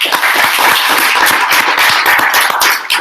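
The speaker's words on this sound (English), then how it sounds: "Let's give a round of applause for Wattpad." Applause from the audience at a tech meetup, loud dense clapping close by that holds steady throughout.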